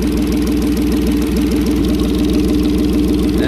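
A Suzuki 40 outboard engine idles while warming up, a steady close and loud rhythmic chugging drone with even pulsing and no talk over it.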